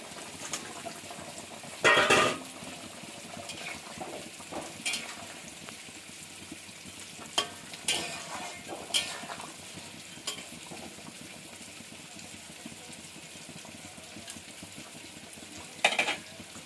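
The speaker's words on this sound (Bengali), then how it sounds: "জলটা ফুটে গেছে, এবার মাছগুলো দিয়ে দেবো।" Hilsa fish pieces dropped into a boiling curry with potato and eggplant: a faint, steady bubbling simmer, interrupted by a few sharp clatters and splashy knocks as pieces go in and a lid or utensil touches the pot.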